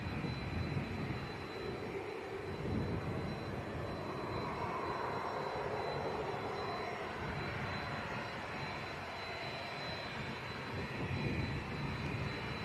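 A passenger airliner takes off from Leeds Bradford Airport for a short hop to Liverpool, its jet engines giving a steady, moderately distant roar that holds level throughout with a faint high whine above it.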